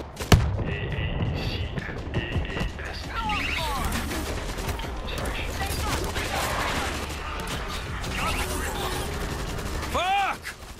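Auto turrets left behind in World War Z open up in sustained automatic fire, with heavy thumps and mechanical clatter, steady over ten seconds with a sharp blast at the start, while voices shout in the game.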